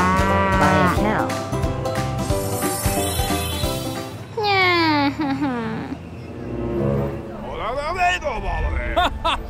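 Cattle mooing in the Roblox Brookhaven roleplay game, several long loud moos in succession rising and falling in pitch, with game sounds and speech-like noise underneath.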